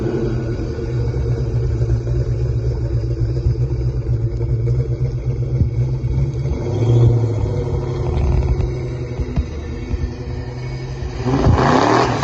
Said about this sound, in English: Just from the dry revving here, it's way more responsive.